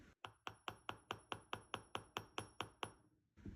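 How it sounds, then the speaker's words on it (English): About a dozen quick, evenly spaced hammer taps ring out on metal wire, sharp and fairly close, in a steady rhythm before stopping. "You don't have to hammer them for very long."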